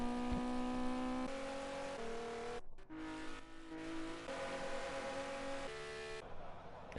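Race cars at Le Mans roar down the back straight, a loud steady engine drone whose pitch shifts up and down as the cars pass, with no talk.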